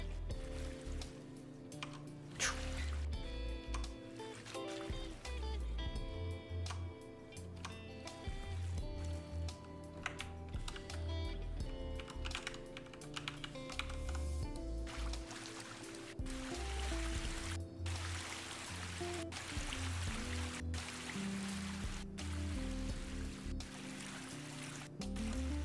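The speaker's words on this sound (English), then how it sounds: "the water's like choppy. You can hear like, it like stutters a bit." Choppy, stuttering water effect from a C++ game engine's liquid audio system, a continuous sloshing, trickling stream that breaks up unevenly over a steady low ambient drone, with no voice over it.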